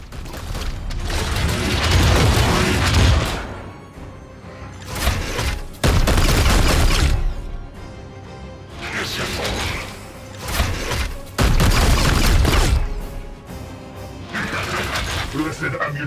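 Heavy, sustained bursts of gunfire and booming impacts from the tactical game Chaos Gate Daemonhunter come in several loud waves separated by calmer stretches, with a voice talking in between.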